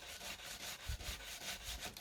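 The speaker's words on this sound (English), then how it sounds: "Another bit of sanding." Wooden planks being sanded to clear split, rough edges: a steady run of scratchy rasping strokes, close and fairly even in loudness, with no voices.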